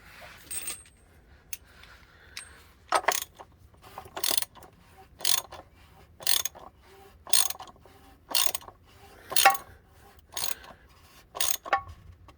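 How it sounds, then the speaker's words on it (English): Socket ratchet tightening a bolt underneath a 2017 VW Transporter T6 2.0 diesel during a service, giving about ten short bursts of clicking pawl at a steady rhythm, close and fairly quiet, with no talk. "Now I just tie it up with the socket."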